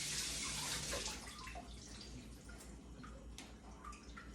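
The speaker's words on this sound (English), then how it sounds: "Let it drip dry there." Faint water dripping and trickling off a rinsed raw chicken as it drains in a kitchen, a soft continuous patter with no voices.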